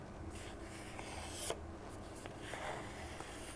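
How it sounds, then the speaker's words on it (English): Pencil drawing a heart shape on a sheet of paper, soft close scratchy strokes in short continuous runs with one sharper tap partway through, quiet and without talk. "We're going to draw a heart shape."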